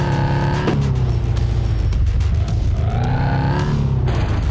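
A monster truck engine roars and climbs in pitch as it accelerates up out of a giant tunnel in a racing video game, loud and continuous with rising harmonic tones and no talking.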